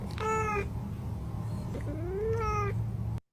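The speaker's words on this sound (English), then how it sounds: "this is the conversation between 2 cats" Two cats trade meows in a played recording, one long call answered after a pause by a rising, drawn-out cry, fairly loud and close over a low background hum before cutting off.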